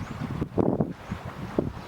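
Strong gusting wind buffets the microphone at a harbour entrance on the coast, a steady low roar that swells in heavy bursts with faint water and boat sounds beneath.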